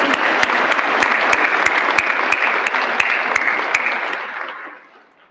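An audience at a Corps of Cadets commencement ceremony claps and cheers loudly and steadily, with a rhythmic clap or beat running through it, then fades out over the last second.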